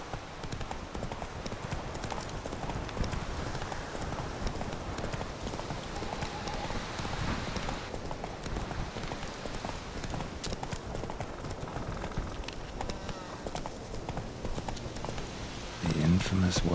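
A horse gallops in The Witcher 3, with steady hoofbeat clip-clop running under constant ambient game sound and a voice, the pounding continuing for the whole stretch before a brief change at the end.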